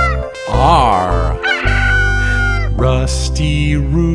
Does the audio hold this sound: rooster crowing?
yes